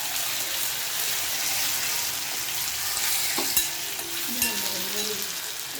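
Garlic and ginger paste fries in a pan with a loud steady sizzle and crackle, stirred now and then with a couple of brief metallic scrapes of a utensil against the pan.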